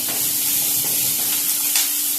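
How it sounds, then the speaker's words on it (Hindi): Steady hissing sizzle of bitter gourd frying in hot oil, continuous and fairly loud, with a low hum beneath and no talking. "यहाँ मैं करेला फ्राई कर रही हूँ, देख सकते हैं"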